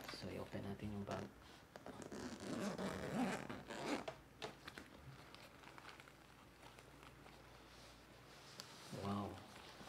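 Zipper being drawn open on a DJI Mini 2 drone bag, several quick rasping pulls up close, with a person talking over and between them.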